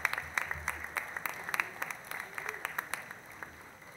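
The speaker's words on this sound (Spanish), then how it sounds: "Renovamos el aplauso a todos los homenajeados" Audience at an evening recognition ceremony in Santa Fe applauds honorees, a moderate, fairly steady patter of many hands clapping heard from some distance in a hall.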